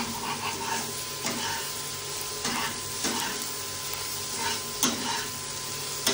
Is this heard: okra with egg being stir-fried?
yes